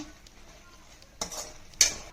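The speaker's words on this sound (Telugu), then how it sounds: "దగ్గరలో పడింది కాబట్టి తిప్పుతూనే ఉండాలి గరిటతో" A ladle stirs thickening kalakani sweet in a pan, giving two short scraping swishes against the metal, the second louder, over an otherwise quiet background.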